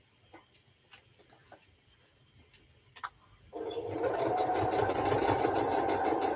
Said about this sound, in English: So I'm still just sewing away.